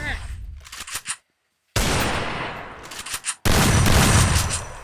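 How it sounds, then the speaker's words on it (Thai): An automatic gun in Free Fire, played in lone wolf mode, firing rapid multi-shot bursts: two loud, dense volleys of shots separated by brief silence, with softer clicks and noises before them. "ดูปืน ยิงได้เป็นหลายนัดอันนั้นเอง"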